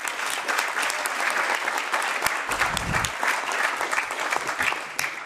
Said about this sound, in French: Vous pouvez applaudir